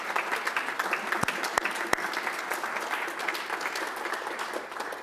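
Audience at an academic conference giving a round of applause, steady dense clapping throughout with a few sharp louder claps standing out near the front.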